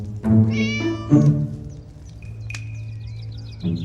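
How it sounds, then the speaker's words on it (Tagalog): An animated cartoon cat gives several clear, close meows: two drawn-out cries near the start, then a shorter one at the end, with a small chirpy effect in between. "Isang pusa?"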